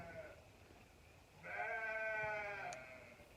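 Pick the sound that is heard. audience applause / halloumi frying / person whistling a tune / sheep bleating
sheep bleating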